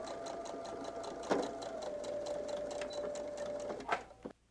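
A sewing machine runs a continuous seam over wallet fabric in a quilting project, its fast even needle chatter and motor whine close up, pausing briefly near the end.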